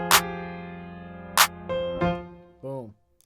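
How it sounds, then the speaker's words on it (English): Arpeggiated chord from a West Coast beat, a handful of bright synth notes struck separately, with sharp broadband hits near the start and a short bending tone at the end, all heard alone with no talking. "it kind of breaks it apart so it sounds like this."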